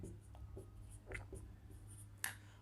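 A pen scratching out a multiplication table by hand, heard as faint, intermittent strokes and taps over a low steady hum, with no talking.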